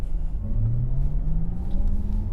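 A 2021 Porsche Taycan Turbo S electric sports car's synthetic drive sound: a steady low electronic hum with gliding tones rises smoothly over road rumble as it accelerates, continuous and fairly loud with no talking.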